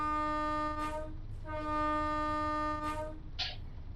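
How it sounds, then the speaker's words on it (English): Two long, loud blasts of a train horn in a PS4 train simulator game, each a sustained chord, followed by a short hissing burst and faint rail rumble. "Now, that horn alone should make those cows move"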